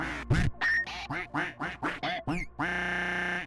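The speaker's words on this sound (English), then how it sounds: "The duck noises." Duck quacking noises during an Oxygen Not Included live stream, a quick run of about eight loud, close quacks in an uneven rhythm, ending in one long drawn-out quack.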